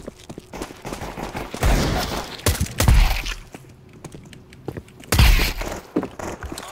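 Video game gunfire comes in bursts of sharp shots and volleys, loud near blasts at a few points among quieter clicks and taps, with voices chatting between them.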